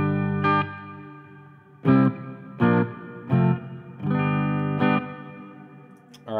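Electric guitar played through a Quilter Labs Interblock 45 amplifier with double tank reverb, a series of separate strummed chords with spaced attacks, each ringing out with a lush, reverberant decay, played alone and close.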